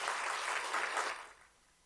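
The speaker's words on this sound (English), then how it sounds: "you can give a round of applause" Audience applause at a Teacher's Day and Engineer's Day ceremony honouring a textbook author, a full steady clatter that fades out over the last half second.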